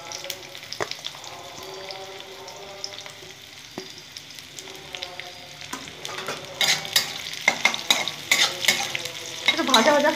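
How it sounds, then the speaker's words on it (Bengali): Chopped onions frying in oil for lotte fish jhuro, a quiet sizzle growing louder as a spatula stirs and scrapes the pan, with no voices. "একটু ভাজা ভাজা করে নেবো।"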